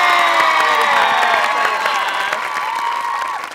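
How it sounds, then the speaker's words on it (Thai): A studio audience on a Thai talk show claps and cheers loudly to welcome a guest host. The applause and whoops come from close by and fade slightly at the end. "ขอเสียงปรบมือต้อนรับพิธีกรรับเชิญของเราวันนี้นะคะเต้ตะวัน"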